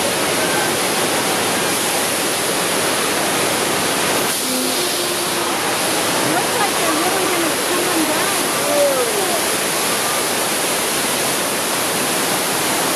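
Loud, steady roar of rushing water filling the scene, with a faint voice and brief tones partly buried beneath it.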